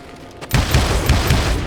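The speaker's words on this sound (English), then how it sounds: "Robert Ollinger appeared with his terrible double-barrel shotgun." A heavy boom from a double-barrel shotgun in the Western video game Call of Juarez Gunslinger, one loud blast that gives way to a sustained rumbling roar and a few further thuds.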